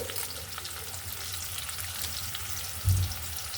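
Green chilies, cinnamon sticks and a bay leaf fry in hot oil with a continuous, even, moderately loud sizzle, broken once near the end by a soft low thump.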